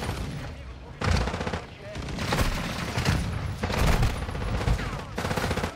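Lockwood 300 shotgun blasts in Call of Duty Modern Warfare 2, several loud booming shots spaced about a second apart, each with a sharp attack and short decaying tail, with game sounds between them.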